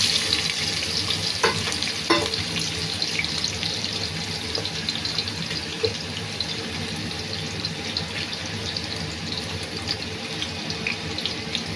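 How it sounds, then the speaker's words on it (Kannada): Chopped onions fry in hot oil over a high flame, giving a steady, dense hiss with a few sharp spatters and clicks throughout. No one speaks. "ಸೊ ಅದು ಚೆನ್ನಾಗಿ ಫ್ರೈ ಆಗಬೇಕು ಈರುಳ್ಳಿ"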